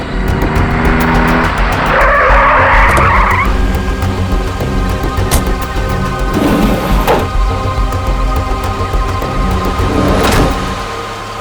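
A taxi skids to a stop with a loud tire squeal and engine roar close by, followed by further rumbling and thumping of the car settling as the noise fades at the end.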